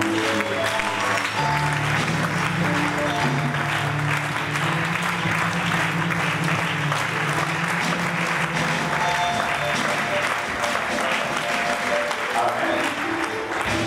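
A church congregation clapping and acclaiming as an offering of praise, dense continuous applause mixed with voices and sustained instrumental music throughout.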